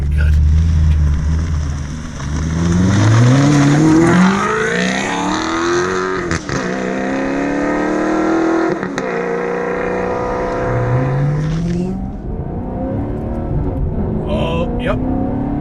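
An Alfa Romeo 8C Competizione V8 revs up through gears with its single-clutch gearbox, loud and close, with repeated rising pulls broken by distinct pauses and jolts at each shift, fading near the end.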